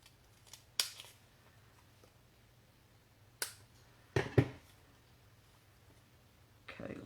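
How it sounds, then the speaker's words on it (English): Scissors trimming a small skinny strip of paper for a crafted card, several crisp isolated snips spaced apart over quiet background, close and fairly loud. "Gotta find another little skinny piece here that I can trim for that end of the bat."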